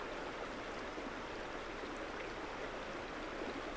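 Continuous rushing of a flowing river, a smooth and unbroken hiss of moving water at a soft, constant level, with nobody speaking.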